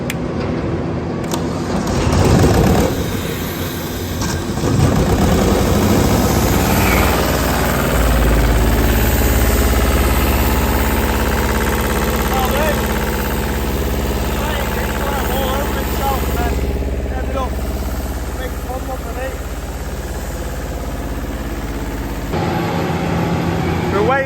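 An MB Trac tractor's diesel engine turns over and settles into a steady, loud, rumbling idle that continues throughout, with a faint voice heard over it early on.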